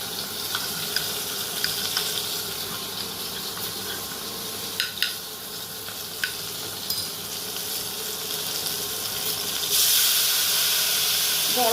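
A spice paste of cumin, chilli powder and turmeric mixed with water hisses and sizzles steadily in a hot pan, with a few sharp clicks and clatters of utensils during cooking.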